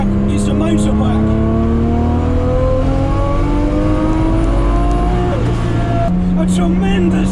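A classic Datsun 240Z with a swapped RB26 engine making about 645 wheel horsepower revs loudly up close, its pitch climbing and falling with a rising harmonic whine and a sharp shift of tone near the end.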